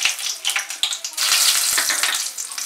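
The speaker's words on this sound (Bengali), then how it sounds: "এবারে আমি কড়াই গরম করে তার মধ্যে 4 টেবিল স্পুন সাদা তেল দিয়েছি, তার মধ্যে গোটা গরম মশলাটা প্রথমে আমি দিয়ে দিলাম" Whole garam masala spices crackle and sizzle in four tablespoons of hot white oil in a wok, loud, close and spitting, with sharp pops over a steady frying hiss.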